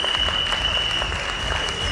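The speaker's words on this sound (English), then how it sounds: "let's have applause for Ms. Shalita Nagesh to come on stage" Audience applause at a retail awards ceremony as an honoree comes on stage, a dense, even burst of clapping from a large crowd with a steady tone running beneath it.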